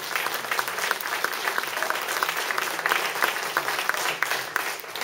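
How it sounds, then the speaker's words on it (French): Steady, moderately loud applause from an audience at a French political campaign gathering, a dense continuous patter of many hands lasting several seconds. "Vous pouvez l'applaudir, elle le mérite."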